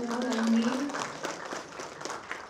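Applause from an audience for a music maker at a studio talk session with a singer; scattered clapping rises under a brief sung or spoken tone at first, then thins out.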